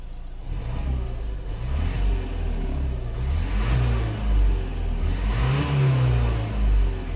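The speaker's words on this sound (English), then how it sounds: "And I'm gonna give you a few revs." Renault Megane III 1.5 dCi diesel engine revved several times up to about four and a half thousand rpm, rising and falling in repeated swells over a steady idle, loud and close with no voices.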